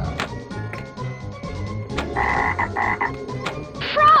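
Frog croaks from a 1996 Bally Scared Stiff pinball machine, repeated bursts over busy game music, chimes and a fast electronic sweep at the end, all loud and close.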